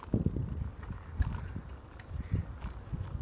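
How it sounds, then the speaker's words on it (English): A bicycle bell rings twice with brief metallic dings on a bike ride between Dundee and Arbroath, set against wind rumble and the whir of cycling. "Can you ring your bell, Sham?"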